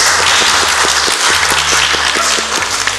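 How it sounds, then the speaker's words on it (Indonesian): A room full of office staff claps together, loud, dense applause that holds steady from start to finish with a faint pulse of rhythmic clapping running through it. "Oke, kita beri tepuk tangan"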